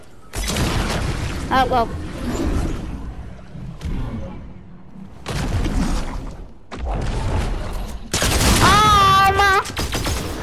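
Fortnite gunfire crackles in loud bursts of rapid shots separated by short pauses, mixed with a player talking excitedly over the game.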